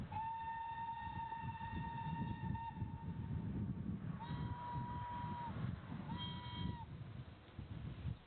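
BR rebuilt Southern Railway steam locomotive 35005 Canadian Pacific at Quorn Woodhouse station on the Great Central Railway sounds one long whistle blast, then two shorter ones, over a steady low rumble.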